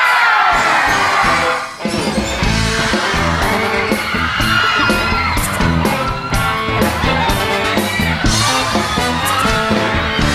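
A large crowd screams and cheers loudly and continuously at a Girls' Generation TV show appearance, high-pitched shrieks and yells filling the space without pause.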